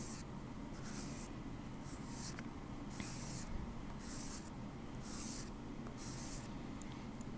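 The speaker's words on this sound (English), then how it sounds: "So really following the curve of your piece there as you sand" A sterling silver clay band ring is sanded along its curve in steady, repeated back-and-forth strokes, a soft scratchy rasp pulsing about seven times at close range with no voices.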